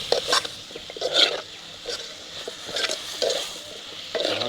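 Squid curry with eggplant is stirred in a pot, a close, rhythmic scraping and clinking of a spoon against metal over a soft sizzle, repeating in short strokes roughly every second.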